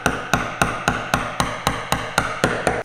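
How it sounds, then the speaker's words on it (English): Hand chiselling a dovetail housing joint, chopping in the shoulder line with a chisel struck by a mallet: about eleven sharp, evenly spaced blows in quick succession, close and loud, with no voices. "now chisel in that shoulder line"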